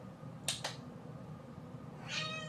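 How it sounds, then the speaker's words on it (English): Several cats meowing indoors: two sharp meows close together near the start, then a longer, drawn-out meow toward the end, over a low steady room hum. "Crazy cats."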